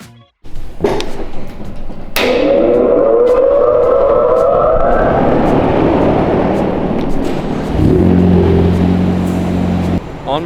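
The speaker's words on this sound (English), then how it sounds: "I'm gonna help Nate throw her up on the dyno right now" A tuned Ford Focus ST on a Dynojet dyno revs hard and loud, its engine note climbing steadily through a long sustained pull, then settling into a steady droning hum near the end.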